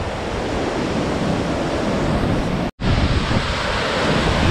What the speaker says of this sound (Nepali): यो चाहिँ पोकलीको झरना